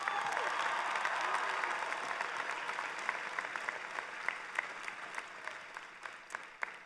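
A large commencement crowd applauds and cheers for Massachusetts, a dense, sustained wash of clapping that starts loud and slowly thins out, with scattered individual claps standing out toward the end.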